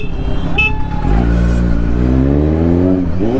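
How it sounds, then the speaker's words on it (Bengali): A Kawasaki Z900 superbike weaves through heavy traffic, its engine note climbing steadily in a loud, close rev after a short horn-like beep at the start. "এই ট্রাফিকের মধ্যে সুপার বাইক নিয়ে যেভাবে কাট মারছি ভাই"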